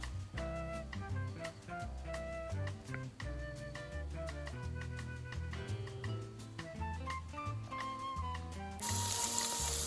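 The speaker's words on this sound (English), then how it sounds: "Hear that sizzle." Soy curls crackle and sizzle in hot oil in a pan close by, with clinks and stirring, and a louder hiss near the end.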